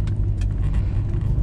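A Chevrolet LS V8 engine idles with its formerly pronounced exhaust header tick now reduced, giving a steady, loud, close low rumble throughout with no talking.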